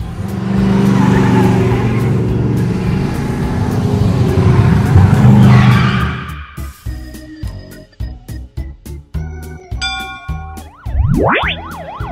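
A car engine revs loudly and continuously for about six seconds, then gives way to a playful children's tune with bouncy musical notes.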